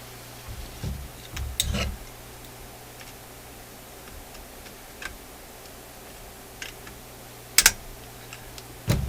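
Wire being cut inside a Lullaby bed lamp radio while removing an IF transformer, a few sharp close clicks of the cutters scattered over a faint steady hum, with no talking.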